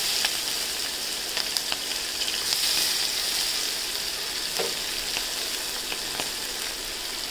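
Oil sizzling in a small new pot, a continuous bright hiss with faint clicks, with no voices.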